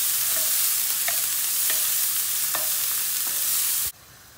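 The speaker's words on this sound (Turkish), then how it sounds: "Köftenin lezzet kokusuyla beraber kavurma işlemine başladık." Chopped onion with garlic sizzling in a pan with meatball drippings, a steady bright frying hiss broken by a few soft utensil scrapes, ending abruptly near the close.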